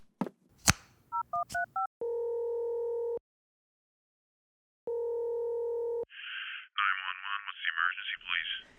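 Telephone keypad dialing tones from the Ultimate Spider-Man video game: a quick run of short touch-tone beeps, then two long steady tones separated by a gap. A burst of electronic chirping follows at the end.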